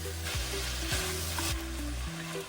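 Meat frying in a pan with onion, garlic and tomato paste, a continuous close sizzle broken by a few low knocking stir strokes.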